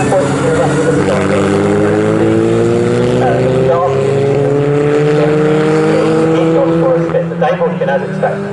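750 Formula racing cars roar around the Snetterton circuit in a championship race, with loud, overlapping engine notes rising and falling as they pass close by under continuous race commentary.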